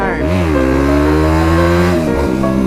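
A beginner motorcycle of roughly 18 to 20 horsepower revs loudly during a wheelie, its engine note climbing, holding high, then dropping sharply near the end before picking back up, heard close and continuous.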